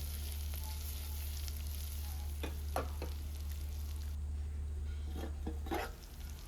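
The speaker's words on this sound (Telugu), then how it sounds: "ఈ ముందు నానబెట్టుకున్నాం కాబట్టి కొరబియ్యాన్ని కరివేపాకు వేసి వేగనివ్వాలి" Soaked foxtail millet fries with curry leaves in a pan for vegetable biryani, giving a constant close sizzle with a few scraping stirs of a spoon, then eases slightly near the end.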